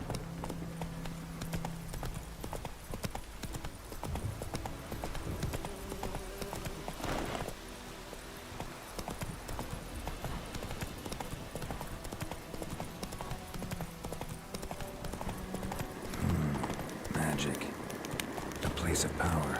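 Hooves of Roach, the horse in The Witcher 3, clip-clop in a steady rapid rhythm through the whole stretch over a game soundscape with buzzing insects, with a voice talking at times.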